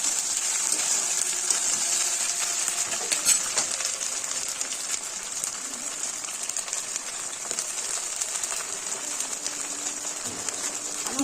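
Water rinsed from a spice bowl hits frying masala of ground cumin, coriander and ginger in a pan for a Bengali katla fish curry, giving a steady close hiss and crackle that runs evenly throughout, with no talking.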